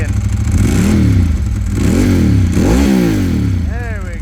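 A 2004 Ducati 998 motorcycle's V-twin engine revs hard up close, loud throbbing rises and falls in repeated throttle blips over a lumpy idle.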